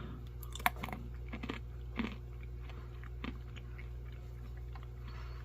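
Crunchy banana chip from a vegetarian MRE being chewed close up, a few sharp crisp bites followed by softer crunching, quiet with no talking.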